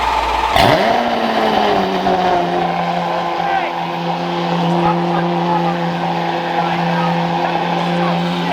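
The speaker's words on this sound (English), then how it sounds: "It has a brilliant exhaust. It's very, very loud." A Lamborghini Aventador 50th Anniversario engine fires up with a sharp roar, then settles into a loud, deep, rumbling exhaust drone that holds steady.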